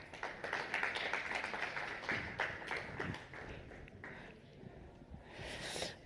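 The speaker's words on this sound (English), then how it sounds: "can I please get a round of applause for Thabo Rakoloti, Director General, Africa Regional Center" An audience claps for Thabo Rakoloti, Director General of the New Development Bank's Africa Regional Center, at a ministerial panel in a conference hall, a steady patter of many hands that thins toward the end with a louder burst at the close.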